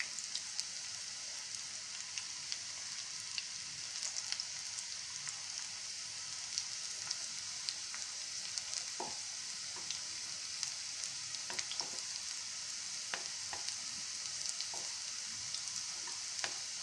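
Bitter gourd chips coated in gram flour batter deep-frying in oil, a continuous dense sizzle with sharp crackles and pops scattered throughout, heard alone.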